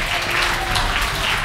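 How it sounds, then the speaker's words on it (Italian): Lukewarm audience applause after a meme skit, a steady, even patter of clapping hands at moderate loudness, sustained without breaks and with no voices over it. "è stato il tiepido applauso"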